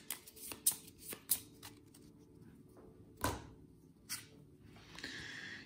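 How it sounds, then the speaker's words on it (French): A deck of cards being shuffled during a tabletop board game, with several crisp riffling bursts and short taps spread across a quiet room, ending in a longer soft sliding rustle. "On remet cette carte dans le paquet visiteur et on mélange."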